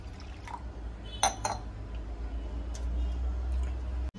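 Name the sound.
pouring water to soak washed moong dal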